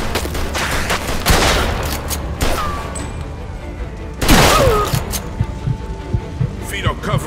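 Loud bursts of gunfire fill a shootout in the video game Mafia II: Definitive Edition, with heavy booming shots and rattling volleys over rumbling game noise, and voices heard amid the fight.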